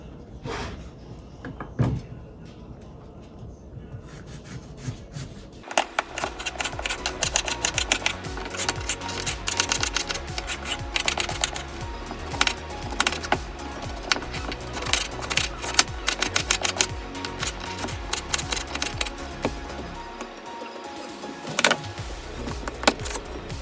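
Rapid, irregular knife chops on a cutting board while dicing large washed potatoes in a home kitchen, with dense clicking taps that run for about twenty seconds after a few separate cuts at the start.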